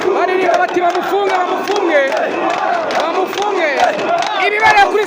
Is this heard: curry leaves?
no